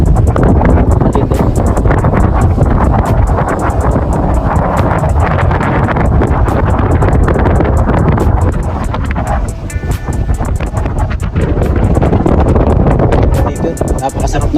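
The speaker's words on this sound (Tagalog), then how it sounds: "Napakasarap ng hangin. Hanging amihan." Strong northeast monsoon wind gusts across the seaside at Cole Park in Corpus Christi, Texas, buffeting the microphone in a loud continuous roar, with faint water and passing noises beneath.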